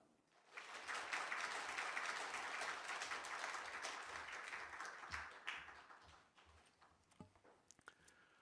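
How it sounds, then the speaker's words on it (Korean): Church congregation applauding to welcome a guest pastor at a Holy Week revival service, a steady round of clapping that swells quickly, holds, then thins into scattered claps near the end. "감사를 표현하는 박수로 그렇게 화종부 목사님 모시도록 하겠습니다"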